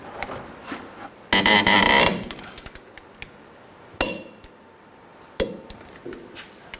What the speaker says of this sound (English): Now we'll just torque this bottom one to 148 foot-pounds.